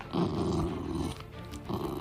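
A dog growls low and rumbling, close by, in two stretches with a brief pause between them.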